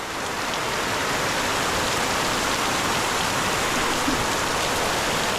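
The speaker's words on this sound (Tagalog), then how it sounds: "Isang oras din po ang ulan mga ka-farmer ha." Heavy rain pouring steadily, a dense, loud, unbroken hiss of water drumming on surfaces close by, with no voices throughout.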